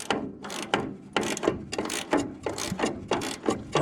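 Nut being worked off a threaded bolt on a Walker aerator attachment: a series of sharp, close metallic ratcheting clicks in irregular bursts, roughly a dozen strokes with short pauses between.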